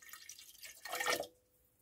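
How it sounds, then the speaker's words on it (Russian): Water is poured into a silver chloride solution during silver recovery from electrical contacts, a short close splashing trickle that ends abruptly, followed by quiet. "Долью сразу воды."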